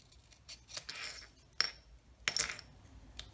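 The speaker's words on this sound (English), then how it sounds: "And then we're going to hand cut out this thank you as well." Scissors snip by hand through cardstock to cut out a small thank-you sentiment for a stamped card, giving a few short, quiet crisp cuts with pauses between them and no talking.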